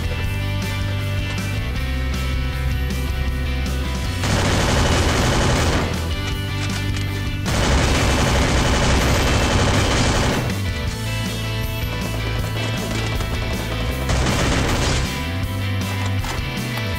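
Rifle fire in the battle royale game Free Fire, three bursts of loud, dense gunfire over steady game music, each lasting a couple of seconds, close and heavy.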